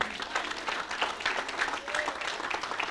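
Congregation in church applauding the Lord, a steady mass of clapping that fills the room and continues evenly.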